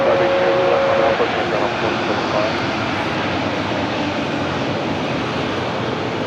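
An American Airlines airliner, delivered in 1991, crossing runway 25 left at LAX, a loud continuous engine roar holding steady from start to finish, with a brief tone near the start.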